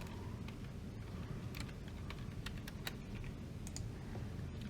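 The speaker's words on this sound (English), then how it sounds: "I'm going to go Control T and I'm going to type in theme" Quiet clicks of typing on a computer keyboard while entering text in Sibelius notation software, a sparse run of light, irregular keystrokes over a soft background hiss.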